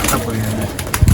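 King breed pigeons in a home loft give low, close cooing and soft throaty rumbles, with a few brief rustles and a voice speaking over them.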